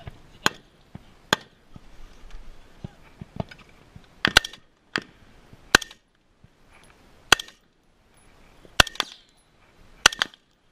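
Rifle gunfire in combat in Syria cracks out in sharp single shots and brief pairs, spaced irregularly, fairly close against a quiet background.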